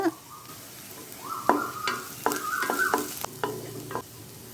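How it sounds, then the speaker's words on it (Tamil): Onion, garlic and curry leaves sautéing in oil in a pan, a soft sizzle under intermittent stirring scrapes and clinks of a spoon against the pan, close by with no talking. "நல்லா வதக்கிக்கலாம்."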